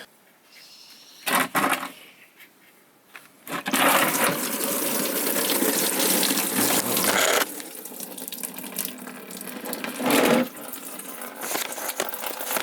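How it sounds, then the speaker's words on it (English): Coolant drains from the engine of a Mk6 Ford Fiesta during an air-conditioning delete. A steady splashing, trickling stream runs for several seconds at close range, preceded by a few brief clunks. "So while the coolant's still draining"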